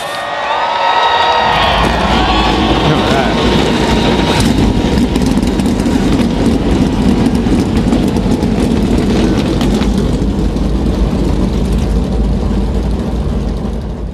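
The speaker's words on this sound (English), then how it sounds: "Drivers, start your engines!" Several stock-car engines in the NR2003 racing game fire up and settle into a loud, steady, sustained roar, at the Daytona Busch Clash, with higher revving tones early before blending into a continuous broadband rumble.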